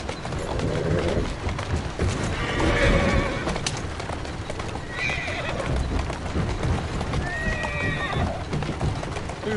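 A horse in the video game Assassin's Creed Syndicate whinnies several times over a steady clip-clop of hooves, with busy game ambience around it.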